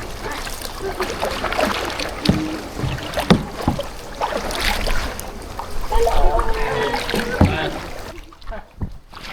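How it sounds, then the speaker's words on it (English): A kayak is paddled across the water of Lan Ha Bay, with splashing strokes and water sloshing close by, over a faint breeze and a low murmur of voices. "Mama's doing kayaking."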